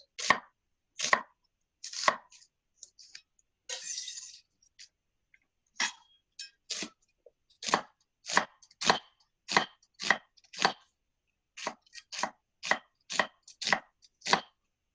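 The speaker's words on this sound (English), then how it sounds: "So I'm cutting vertically from the root end to the top end." A chef's knife chops a vegetable lengthwise into strips, root end to top, on a cutting board at home: a steady run of about twenty crisp, close knocks with a short pause and soft rustle partway, no talking.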